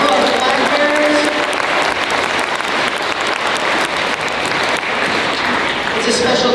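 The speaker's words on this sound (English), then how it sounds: "One round of applause for our performers" Audience at a United Nations Day school assembly applauding performers and flag bearers, a dense, steady wave of clapping filling the whole stretch, loud and continuous with no break.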